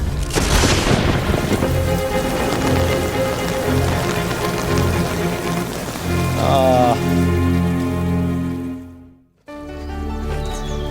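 Steady rain falls over a garden, a dense continuous hiss that stays loud for most of the span, then drops away abruptly near the end before the sound resumes, with music layered underneath.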